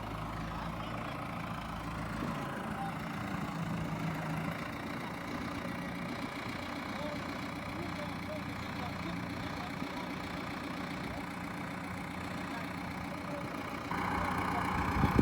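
A Massey Ferguson MF4708 tractor with a 4,400 cc four-cylinder turbo engine runs steadily while planting sugarcane, a continuous low engine drone that holds level throughout and swells slightly near the end.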